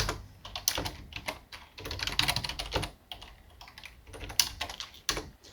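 Fingers type on a computer keyboard in quick clattering bursts of close key clicks, broken by short pauses.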